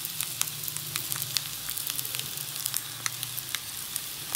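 Egg pepper masala sautés lightly in a pan, giving a constant close sizzle dotted with quick crackles and a few soft stirring scrapes, with no voices.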